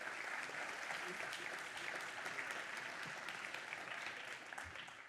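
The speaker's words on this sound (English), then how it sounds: "Give her a round of applause." Sustained audience applause at an Angular tech conference as a speaker walks on stage, a steady wash of many hands clapping throughout, fairly distant and quiet, thinning slightly at the end.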